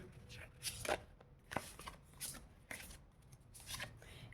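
Oracle cards being shuffled for a tarot reading, a series of crisp riffling bursts about every second, close and moderately loud with no talk over them.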